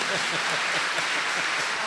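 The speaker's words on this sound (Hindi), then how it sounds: "आप एक बार जोरदार ताली बजा दी" Audience applause at an inauguration ceremony in a hall, a steady dense wash of clapping from a large crowd, sustained and even throughout.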